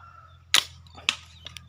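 A slingshot with two-strand flat rubber bands fires 8 mm balls: one sharp, close snap, then a second a half-second later and fainter quick clicks after, over a low background hum.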